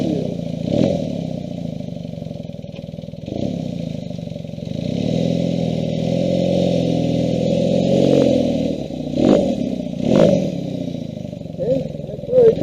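A Kawasaki KZ400 street tracker motorcycle out on a ride, its engine droning steadily with rising revs, clattering bursts and wind buffeting, while a person speaks over it.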